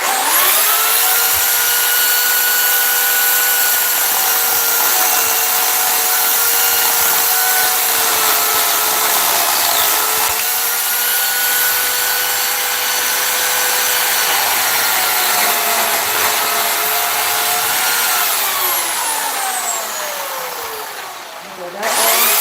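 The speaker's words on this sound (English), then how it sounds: "we are going to use the chainsaw just momentarily here" A chainsaw carving wood roars loudly and steadily at close range for a long stretch, its engine pitch dipping slightly as it bites, then cutting off at the end.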